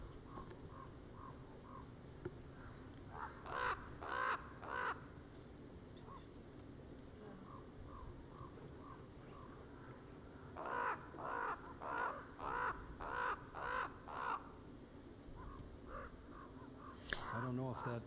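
Ravens calling in a Yellowstone wolf setting, bursts of harsh repeated caws in two clusters, fairly loud over low background noise, with a few sparser calls in between.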